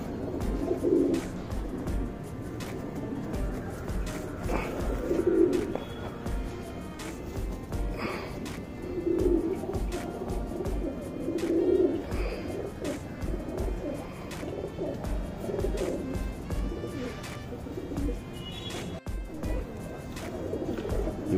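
Pigeons cooing close by in a loft, soft rhythmic coos repeating every few seconds over a low background murmur, with faint other birds.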